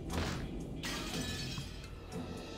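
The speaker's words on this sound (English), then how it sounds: "The glass smashed with a violent sound, and the frame groaned and creaked." A glass window shatters under blows from an antique chair in a visual novel, a loud crash followed by a second smash and tinkling shards, with a creaking frame under the noise.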